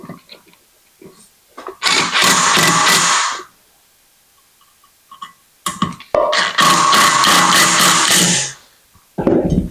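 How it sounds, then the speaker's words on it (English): A 12-volt DeWalt impact driver drives screws while a Harbor Breeze Henderson windmill ceiling fan is installed. Two loud, close bursts of rapid hammering impacts, each about two seconds long, are separated by near silence. "I am using this 12-volt DeWalt, and it's an impact."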